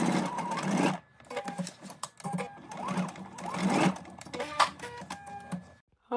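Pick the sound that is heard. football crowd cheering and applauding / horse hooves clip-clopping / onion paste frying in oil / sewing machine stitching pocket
sewing machine stitching pocket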